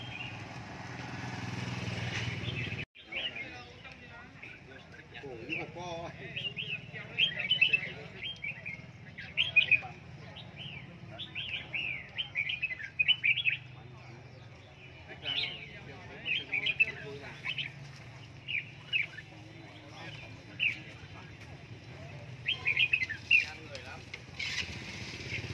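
Red-whiskered bulbuls singing in cages at a bird market in Lang Son, Vietnam, with bright chirping phrases recurring through steady market background noise and a low engine hum that cuts off early on.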